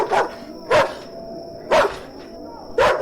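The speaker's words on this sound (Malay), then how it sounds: "Seekor anjing yang ditambat menderam sebelum menyalak garang dengan mulut yang" A tethered guard dog in a shed barks four times in sharp, evenly spaced bursts about a second apart, close and loud, with a faint steady tone running underneath.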